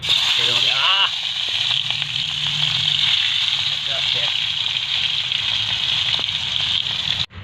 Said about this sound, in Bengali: তেলটা গরম হয়ে গেছে কাতলা মাছের পেটিটা এবার দিয়ে দেবো